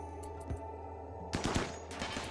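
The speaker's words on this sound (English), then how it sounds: "So we're going to take Chrono and we're going to fire at it." Rapid gunfire bursts from the video game Rimworld, a few sharp shots early followed by a dense, loud rattling volley in the second half, with a steady electronic hum underneath.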